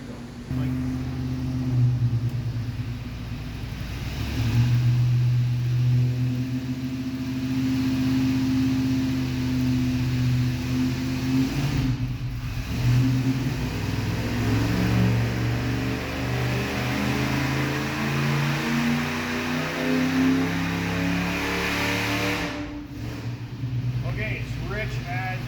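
A stock Ford 460 V8 runs rich on a dyno, stumbling and unwilling to take load as its throttle is pumped, a loud droning growl that rises and falls under steady conversation.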